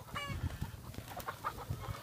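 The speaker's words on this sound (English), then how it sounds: "you can see the chickens, they got the laying house in there" Laying hens cluck continuously in a mobile laying house on pasture beside a cattle herd, with overlapping close and farther calls and short squawks.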